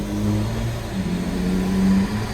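A Lexus IS200 engine revs on a dyno, a steady mid-pitched drone rising in tone over a couple of seconds, loud and close with no voices.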